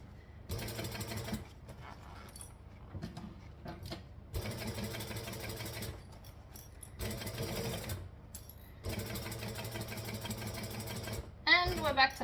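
Sewing machine stitching in bursts, a fast mechanical rattling hum that starts and stops several times with short pauses between runs, close and fairly quiet, with a brief extra noise at the end.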